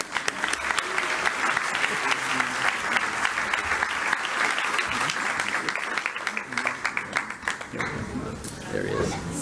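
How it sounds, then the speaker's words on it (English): Sustained applause from an audience at a public speaking challenge, dense clapping throughout, thinning toward the end, with some voices mixed in. "Please join us in giving him a round of applause as we welcome him to the stage."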